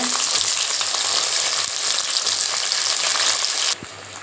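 Steady, loud sizzling of onions and tomatoes sautéing in a pan, a continuous hiss that drops away sharply near the end.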